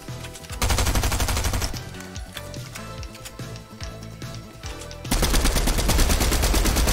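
Rapid gunfire in Fortnite, dense automatic bursts rattling loudly near the start and end with scattered shots between, no talking over them.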